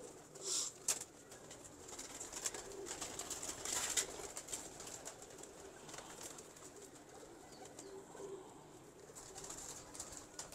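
Kasuri pigeons coo softly and repeatedly at close range, with low throaty calls and light rustling over a quiet background.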